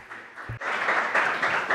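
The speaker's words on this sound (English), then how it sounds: "Please, an applause for everyone." A crowd claps in a dense burst that swells after a brief pause, with a short voice just before the applause begins.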